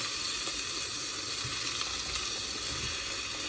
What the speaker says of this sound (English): Saute them for about 3 minutes until they get a little bit soft